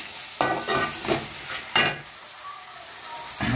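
A utensil scrapes and stirs spiced quail masala in a frying pan in a few distinct strokes, with a soft sizzle between them, close up and without talk.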